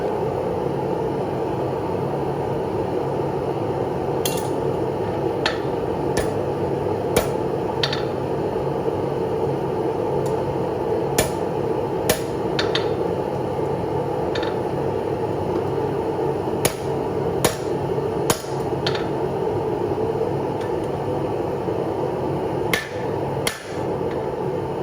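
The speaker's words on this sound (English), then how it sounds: "way that I'm going to be riveting these up is all right-handed" Sharp, spaced hammer strikes ring out while riveting blacksmith hammer tongs in a workshop, irregular metallic blows over a steady fan-like background noise.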